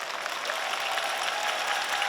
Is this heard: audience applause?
yes